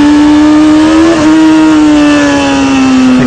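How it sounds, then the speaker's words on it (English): A motorcycle engine revs in a long, loud, steady pull while the clutch is slipped to lift the front wheel, its pitch holding high and easing slightly downward over a few seconds, with no talking. "Rolling on the throttle is a smooth way to bring the front wheel up"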